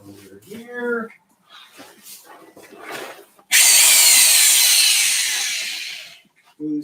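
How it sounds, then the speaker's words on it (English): A power drill on a sword-making workbench whirs loudly and steadily for about three seconds, then winds down, with brief speech before it and after. "And our drill is over here."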